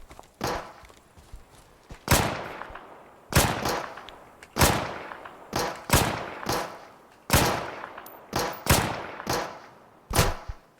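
Loud, sharp gunshots from the survival shooter Deadside crack out one at a time at irregular intervals, about a dozen in all, each followed by a short echoing tail.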